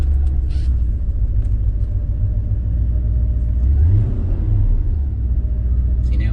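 A Porsche 928 petrol V8 idles with a deep, steady rumble close by, rising briefly in a short rev before settling back, with no voices over it.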